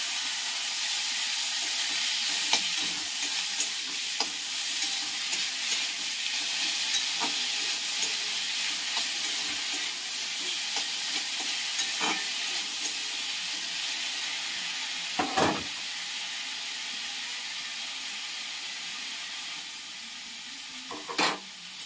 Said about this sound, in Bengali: রসুনটা আর লঙ্কাটা ভাজা হয়ে গেছে, এই শাকটা দিয়ে দিচ্ছি।